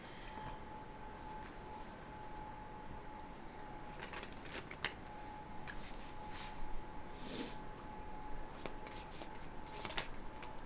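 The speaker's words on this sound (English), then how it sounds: "if you don't like the shuffling" Tarot cards are shuffled by hand in quiet, soft riffling and sliding bursts over a faint steady hum, with a few sharper snaps toward the end.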